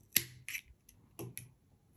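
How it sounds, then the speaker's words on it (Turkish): Scissors snipping crochet yarn, leaving a short tail, heard as a few quiet, separate close-up clicks and snips with brief pauses in between. "İpimizi şöyle biraz 10 santim kalacak şekilde kesiyorum."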